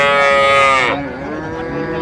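A Sahiwal cow at a cattle market gives one loud, close, drawn-out moo that falls in pitch and then trails off, with no one talking over it.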